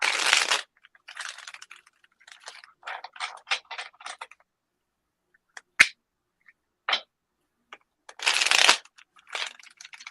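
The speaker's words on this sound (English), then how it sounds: "I'm going to start shuffling, and whenever you want me to stop" Tarot cards are shuffled by hand in close, crisp riffling bursts separated by pauses, with a few sharp taps and clicks between them, quiet room and no voices.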